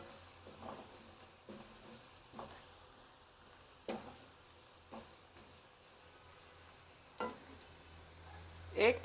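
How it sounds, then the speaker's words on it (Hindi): Mustard seeds and cumin fry with onions in a pan, giving a faint, low sizzle broken by intermittent stirring clinks and scrapes, with a sharper scrape near the end. "इन दोनों को थोड़ा सा फ्राई करेंगे प्याज़ों के साथ।"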